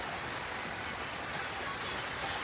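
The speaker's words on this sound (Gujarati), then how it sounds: "જો ચાલુ હજુ તો વરસાદ" Monsoon rain pours down in a steady, dense hiss of drops striking surfaces, even and unbroken from start to finish with no voices.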